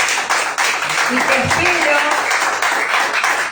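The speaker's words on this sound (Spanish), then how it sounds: "Denle un fuerte aplauso a Jesús." A church congregation claps and applauds under a voice speaking in Spanish, the dense clapping continuing steadily through the clip.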